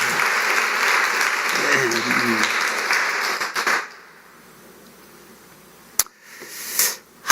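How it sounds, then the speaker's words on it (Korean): A church congregation at a Sunday worship service applauds the choir, sustained clapping for almost four seconds with a voice briefly over it, then quiet room tone broken by a sharp knock and a short rustle. "박수 한번 보내주시길 바랍니다."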